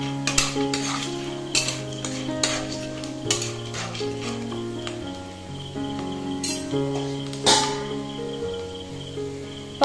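Popcorn kernels stirred in a pan over a low gas flame, with repeated scraping and sharp metallic clinks of a utensil against the pan over a light sizzle, close and fairly quiet, no talk.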